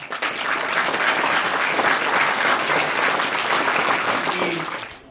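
An audience at a ceremony breaks into loud, sustained applause, many hands clapping densely and close, fading slightly at the end.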